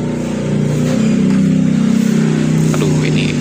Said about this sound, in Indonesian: ini banyak yang lewat juga teman-teman, mohon maaf ya kalau agak berisik